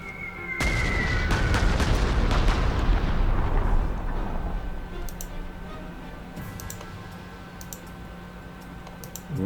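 Bombing run in the wargame Panzer Corps 2: a sudden heavy blast opens a roaring cluster of explosions that rumbles for several seconds, then decays into a quiet hum with faint clicks.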